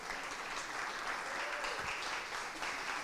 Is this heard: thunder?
no